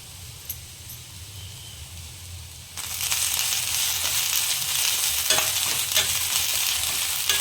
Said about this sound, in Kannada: ಸ್ವಲ್ಪ ಕರಿಬೇವನ್ನ ಹಾಕ್ತಾ ಇದ್ದೀನಿ.